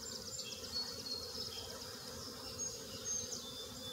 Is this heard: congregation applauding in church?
no